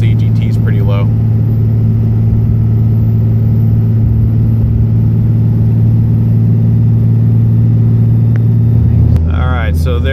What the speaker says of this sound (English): we just hit the top of that little hill and it just downshifted again, went back into fourth gear